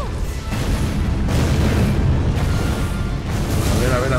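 Heavy, booming gunfire and explosions from Tomb Raider Underworld pound repeatedly, loud and close, forming a dense, rumbling barrage.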